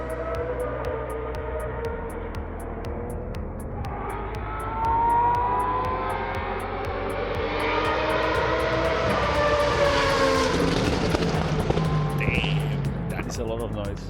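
Race cars lap the Hockenheimring circuit, heard from outside the track while cycling nearby as a distant rising and falling engine whine that sweeps up in pitch, under steady road and wind noise.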